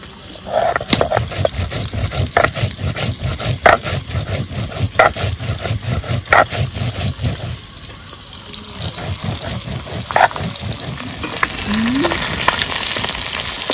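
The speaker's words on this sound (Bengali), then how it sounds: "বাটা মাছগুলো ভেজে নেব, তারপরে শিঙি মাছগুলো ভাজবো।" Bata fish fry in hot oil, giving a loud, dense, continuous sizzle with bursts of spattering and occasional scraping clatter, close and unbroken for the whole stretch.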